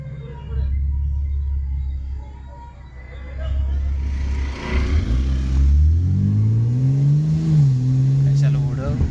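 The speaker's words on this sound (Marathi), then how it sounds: "चल चल अरे गाडी आली" A BMW car arrives and drives past at night on a crab-fishing outing, engine rumble swelling as it nears and rising in pitch as it accelerates by, with people talking.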